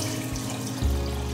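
Well water pours into a pot of chicken feet as a continuous close rush and splash that deepens and gets heavier partway through.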